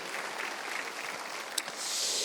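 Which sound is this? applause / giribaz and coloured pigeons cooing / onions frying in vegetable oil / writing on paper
applause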